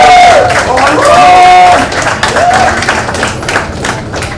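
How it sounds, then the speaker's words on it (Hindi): Audience clapping and cheering at a 2017 film web series launch event, a mixed crowd sound with tonal speech or music harmonics over it, loud throughout and thinning toward the end. "आज उसके लिए सब लोग तालियां मार रहे हैं।"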